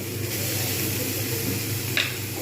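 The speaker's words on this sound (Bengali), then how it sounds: "এগুলো ভালো করে নাড়িয়ে দেবো চিংড়ি কিন্তু বেশিক্ষণ ভাজতেও হয় না" Steady sizzling of prawns frying in a pan, with soft stirring scrapes and a brief louder hiss near the end.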